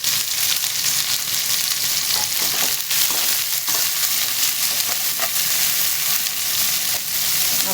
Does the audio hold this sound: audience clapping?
no